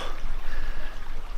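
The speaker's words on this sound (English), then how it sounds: "Nothing like getting yourself cleaned in the mountain stream while it rains" In the rain in the New Zealand wilderness, a mountain stream rushes and splashes close by in a steady, full-bodied flow with no talking over it.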